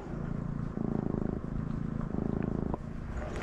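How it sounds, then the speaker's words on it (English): A cat purrs steadily up close, a low rhythmic rumble pulsing with each breath, soft and continuous. "listen to those purrs"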